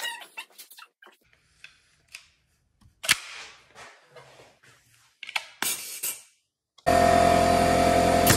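A nail gun drives nails into a homemade DIY skate rail with a few sharp, snapping bangs spaced apart among quieter knocks, followed by a loud, sustained burst of broadband noise.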